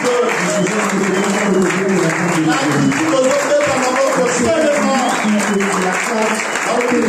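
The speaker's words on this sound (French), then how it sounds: "Est-ce qu'il y a quelqu'un qui peut applaudir Dieu?" A church congregation at Sunday worship applauds steadily and loudly throughout, with voices and singing-like tones carrying above the dense clapping.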